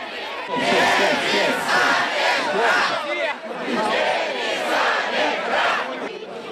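Crowd of protesters shouting and cheering outside the city council over renaming the city, a dense, loud wall of voices with surging chants that dip briefly midway before rising again.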